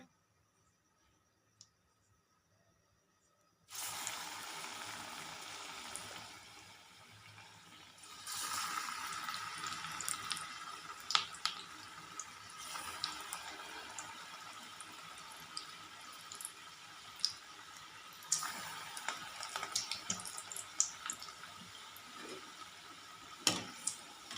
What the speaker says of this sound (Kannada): ಎಣ್ಣೆ ಕಾದಿದೆ ಇವಾಗ ಬಜ್ಜಿ ಬಿಡೋಣ ನೋಡಿ